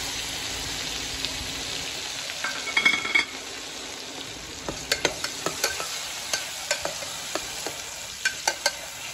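A tomato masala mix is stirred in a frying pan, giving a steady sizzle with a run of sharp spatula scrapes and clicks that speed up toward the end. The sound is close and there is no talking.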